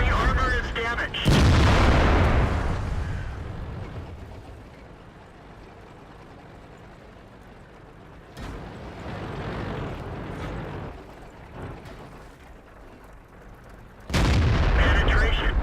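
World of Tanks tank cannon fire, a T32 battling a KV-series enemy: three heavy booming shots spaced several seconds apart, each with a long rumbling tail, with a voice talking in the quieter gaps.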